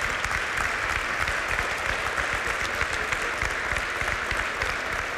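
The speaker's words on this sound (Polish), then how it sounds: "Wielkie brawa." A steady, dense wash of applause from an audience at a regional awards ceremony honoring a war veteran, continuing evenly at full strength without talk.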